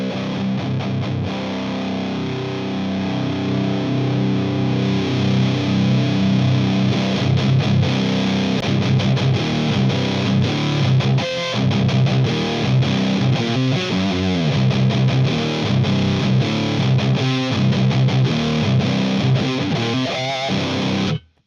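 Electric guitar run through a Boss high gain distortion pedal set to a scooped tone with boosted lows and highs, playing a thick, saturated riff continuously and loudly for about twenty seconds before cutting off abruptly.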